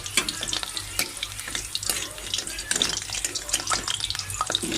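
Chicken and potatoes fry in a pan with a bright, crackling sizzle, broken by frequent sharp spits and pops and the clatter of stirring, all close and fairly loud.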